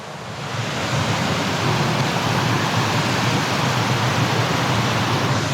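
Pistyll Rhaeadr, the tall Welsh waterfall, heard from the top beside the sheer drop: a dense, steady rushing roar of falling water that swells in and then holds loud and unbroken.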